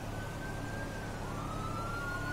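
Inside a police pursuit video game, a siren wails in a long, slow rising-and-falling sweep, set back over a dense rumbling wash of engine and road noise.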